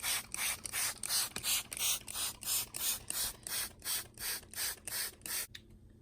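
A hand spray bottle mists wheatgrass seeds in a growing tray: about a dozen quick, evenly spaced trigger squirts, each a short hissing spray with a faint click, close and fairly quiet, then stopping.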